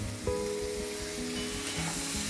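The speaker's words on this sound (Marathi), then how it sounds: "आता हे टाकून आपण ह्याला चांगलं तेलामध्ये, आता हे मसाल्यामध्ये आपण ह्याला 1 मिनिटभर चांगलं परतून घेऊया." Fresh green peas and capsicum being sautéed and stirred in hot spiced oil over medium heat, a steady close sizzle with soft stirring scrapes throughout.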